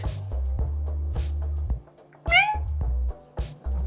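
A person imitates a cat, giving a few short, mewing meows amid clicks and low background hum, with one rising, drawn-out meow standing out near the middle.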